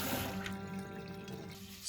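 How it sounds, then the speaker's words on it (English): Water splashing and running as it is poured over rice in a bowl for washing and then drained away, a short close liquid pour with light dripping. "Fill with water and discard immediately."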